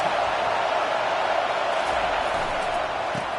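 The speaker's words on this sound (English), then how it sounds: "Listen to this crowd just shaking the girders of this place trying to help their defense." A packed crowd at a Nebraska versus Miami football stadium roars loudly and continuously, a dense, unbroken wall of noise with no pauses.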